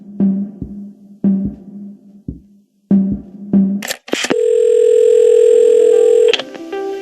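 Telephone in the video game Assemble with Care: a series of short electronic beeps in a halting rhythm, then a loud, steady dial tone holding for about two seconds before it cuts off.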